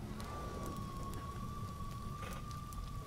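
Steady rain hisses over a low rumble of thunder in the video game Nioh 2, with a thin high tone running through the whole stretch.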